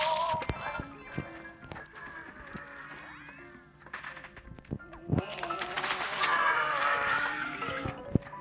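Galloping and neighing of a horse in the Plants vs. Zombies 2 video game, with clip-clop hoofbeats and whinnies mixed among busy game effects and cat-like meows, moderately loud throughout.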